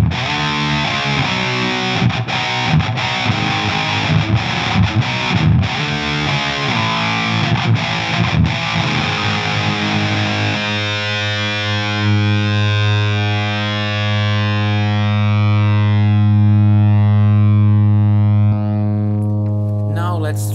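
A distorted electric guitar runs through a Model T amp simulator and impulse response, first playing choppy, chugging riffs, then ringing out a long sustained chord that fades, loud and close with no talking.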